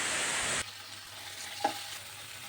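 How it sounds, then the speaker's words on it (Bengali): Spices with tomato paste, meat masala and salt being stir-fried for a mutton liver curry, a loud steady sizzle that drops off abruptly, leaving a quieter low frying hiss with one brief clink of a spatula. "মশলা থেকে তেল না ছাড়া পর্যন্ত কষিয়ে নিতে হবে।"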